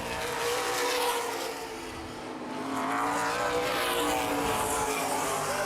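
Late model race cars roaring around Baer Field Speedway oval in a Great Lakes Outlaw Late Model Series 100-lap race, a steady dense engine drone with passing surges swelling and fading, heard from trackside.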